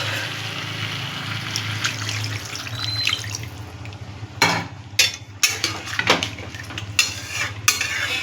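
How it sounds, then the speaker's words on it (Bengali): Water is poured into a pan of spiced potatoes for a Kashmiri-style alur dom with peas, setting off a soft sizzle and gurgle. Several sharper splashing bursts follow toward the end, close by. "দেখুন আমি এতটা জল দিয়ে দিয়েছি।"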